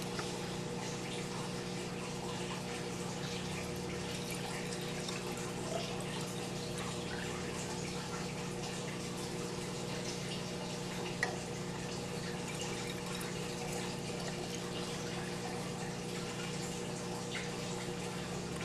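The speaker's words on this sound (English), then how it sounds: "So first I'll fill up the saltwater flasks." Salt water at ocean salinity runs steadily into lab flasks, a continuous close trickling and pouring wash with faint drips, no voices over it.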